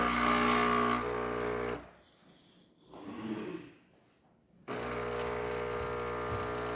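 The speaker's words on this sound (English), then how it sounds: "we're going to hear it rotate all the way around to get ready for brewing" A steady mechanical whir runs, cuts to a quieter gap with a soft motorized churning as a DeLonghi Magnifica espresso machine's brew unit rotates into position, then the loud whirring machine noise returns and continues.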